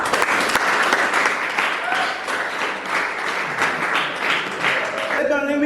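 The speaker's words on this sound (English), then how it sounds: "He can stand up and we can clap hands for him." An audience at a school talent competition final claps in a dense, sustained burst of applause, loud and even for several seconds before it starts to thin near the end.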